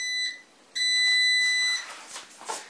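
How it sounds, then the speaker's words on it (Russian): A Gorenje bread maker sounds its high electronic beeps as baking finishes, a short tone then a longer sustained beep, fairly quiet against faint room noise. "Вот, друзья, сигнал прозвучал."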